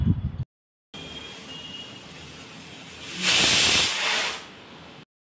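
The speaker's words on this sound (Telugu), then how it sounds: "అయితే 5 విజిల్స్ వచ్చేసినాయి" Pressure cooker whistle venting steam while lentils cook on a stove: a steady hiss that swells into a loud, high, shrill whistle for about a second and then fades back to hissing before it stops.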